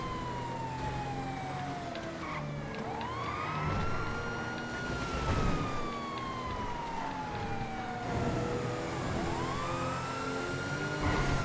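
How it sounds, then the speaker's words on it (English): Police car siren in the GTA FiveM game, a wailing tone sweeping up and down in long cycles over steady vehicle engine noise, loud and continuous. "Oh, we got some wee woos. An ownable emergency vehicle. Wasn't the first, but an ownable police car."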